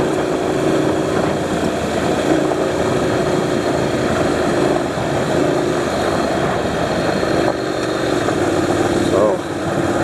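Honda NC700X motorcycle engine droning loudly and steadily during a tire slide, a continuous buzzing roar with wind noise.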